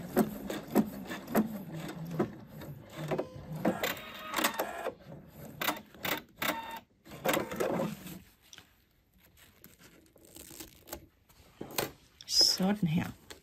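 A domestic sewing machine runs in short bursts as it stitches across the end of a seam on fabric for a Christmas advent calendar. The whirring motor pauses and restarts between bursts, with quiet handling noises in the gaps.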